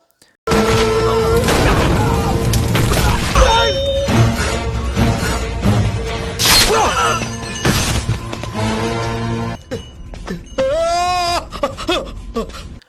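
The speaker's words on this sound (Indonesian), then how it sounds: "Bahkan ledakan-ledakan kecil pun terjadi akibat bahan bakar yang ada di sekitar desa" Loud, chaotic Indian film soundtrack with booming explosions and crashes from fuel igniting around a village, mixed with cries, wails and dramatic music throughout.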